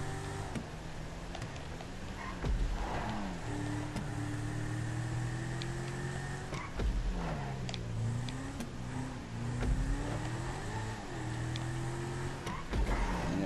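Car engine in the racing game GTA 5, a favorite sports car driving with a steady low engine hum that rises and falls as it revs and shifts, continuous and fairly quiet, with no talk.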